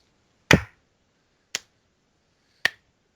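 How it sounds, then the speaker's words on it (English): Three sharp, isolated hand claps sound about a second apart, each a crisp close snap with silence in between. "What was the clap for?"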